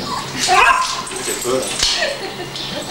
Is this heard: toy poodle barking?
yes